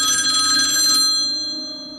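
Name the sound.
telephone ringing for a phone call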